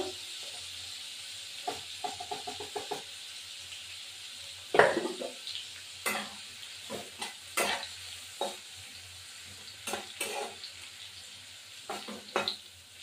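Hilsa fish fries on a tawa with a soft, steady sizzle. Clinks and scrapes of a utensil turning pieces punctuate it up close, with no talking.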